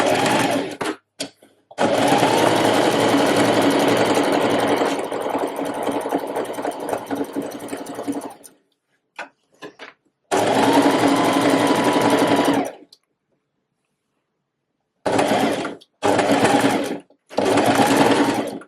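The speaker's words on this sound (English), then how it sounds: "I've got my machine set to a straight stitch. And I'm just reversing at the top." A domestic sewing machine runs a straight stitch down a dart on a reversible waistcoat. It gives a close, steady whirring hum in a long run, then shorter bursts with brief pauses while reversing at each end.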